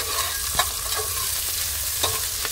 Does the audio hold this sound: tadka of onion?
yes